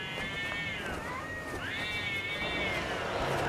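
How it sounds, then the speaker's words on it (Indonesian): Cats fight outdoors at night, rising and falling drawn-out yowls with wavering pitch, fairly close and continuous over a low background hum. "Oh, wonten kucing kerah."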